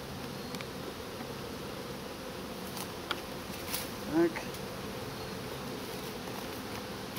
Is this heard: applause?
no